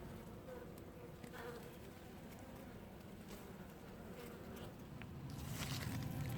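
A dense, continuous hum of many honey bees buzzing together in a hive, steady and close, swelling slightly louder toward the end.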